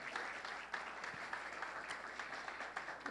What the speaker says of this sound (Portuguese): dando uma rica salva de palmas para o Rei Jesus